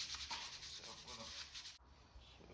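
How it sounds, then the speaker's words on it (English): Faint, fast rubbing strokes of 400 grit sandpaper roughing up a model railway blast furnace part, then a softer continuation after a brief break. "we're gonna rough this up with some 400 grit"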